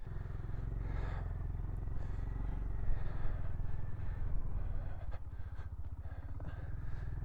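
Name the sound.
Honda GB350s motorcycle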